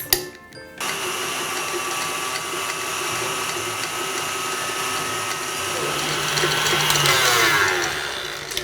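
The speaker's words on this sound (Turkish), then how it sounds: "Şimdi bunu bir 10-15 dakika çırpacağım." An electric hand mixer whips cream for a quick millefeuille pastry dessert, giving a loud, continuous motor whine after a brief clatter at the start, swelling slightly toward the end.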